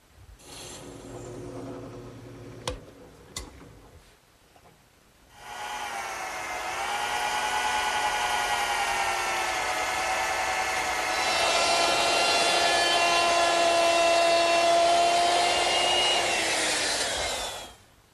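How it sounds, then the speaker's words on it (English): After a few knocks and handling noises, a power drill whines steadily into wood for about twelve seconds, drilling pilot holes for an iron dowel screw on a child's wagon, its pitch shifting slightly, then stops. "So I'm going to have to drill a couple pilot holes."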